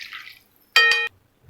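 Water pours into a pot of millet kichadi cooking with coconut milk in one short, steady splash of about a third of a second, between faint sounds.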